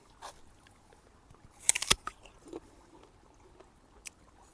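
Someone bites into a small, unripe green apple picked on the road from Manali to Jispa, with a sharp crunch followed by a few softer chewing sounds close by against quiet outdoor background.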